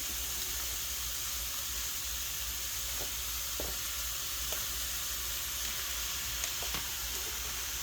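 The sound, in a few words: ground pork frying in pan with onions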